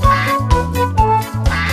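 A cartoon duck quacks in a children's song about a grandfather's farm with a duck pond, several short calls falling in rhythm over a bouncy musical backing, loud and up front.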